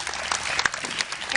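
Applause from a studio audience on a morning show, a dense, steady patter of many hands clapping, fairly loud throughout the short burst.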